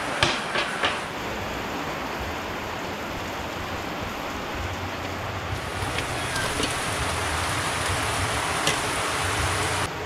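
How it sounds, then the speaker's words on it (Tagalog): Heavy monsoon rain pours down in a dense, unbroken hiss, with a low rumble underneath and a few sharper drips near the start. "Grabe, ang lakas ng ulan."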